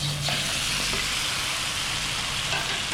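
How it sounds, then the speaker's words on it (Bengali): Fried pangas fish pieces and potatoes tumbled into onion gravy in a hot pan, giving a steady, close, continuous sizzle with a brief soft clink near the start and no talking. "পেঁয়াজগুলো একটু সফট হয়ে গেলে এতে আমি ভাজা মাছ আর আলুগুলো ঢেলে দিব"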